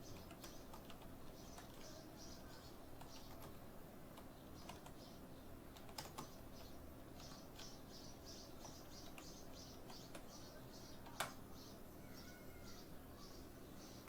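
Keys clatter on a computer keyboard in quick light taps, steady bursts of typing heard close and faint against a quiet room hum, with an occasional sharper click.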